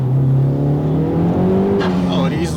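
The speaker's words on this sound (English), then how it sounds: "Oh, it easily spins the tires" A tuned 10th-generation Honda Civic Type R accelerates hard, its engine note rising steadily and loud while the tires spin and squeal near the end, with a voice talking over it.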